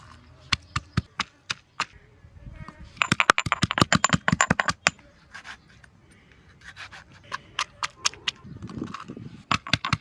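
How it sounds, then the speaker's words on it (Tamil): Chopped onion, garlic, ginger, tomato and chilli are pounded on a stone into a paste, giving sharp, close, rhythmic knocks in quick bursts separated by softer scraping pauses, with no talking. "நறுக்கின வெங்காயம், பூண்டு, இஞ்சி, தக்காளி, மிளகாய் இதெல்லாம் கல்லில் போட்டு இடித்து பேஸ்ட் மாதிரி எடுத்துக்கலாம்"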